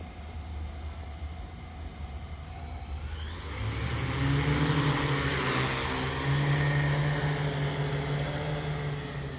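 Multi-rotor UAV motors spool up after arming, a low idle giving way to a louder steady whirring hum with tonal motor whine that holds on continuously.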